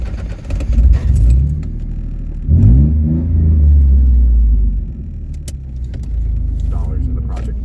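A car engine, louder than usual, rumbles while driving toward downtown Louisville, Kentucky, with low droning and a rising rev in the middle, plus faint jingling, as people talk inside the car.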